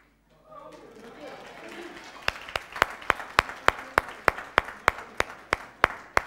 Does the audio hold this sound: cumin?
no